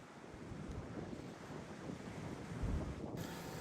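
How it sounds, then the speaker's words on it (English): Wind buffets the microphone on a high, cold ridge, giving a steady low roar and rustle with no voices. "Standing up here on this ridge, it's awful windy up here."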